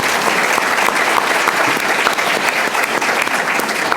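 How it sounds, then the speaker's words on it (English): An audience applauds at a Chicago panel event on police, schools and city finances, dense steady clapping that stays loud and close throughout without a break. "Big round of applause"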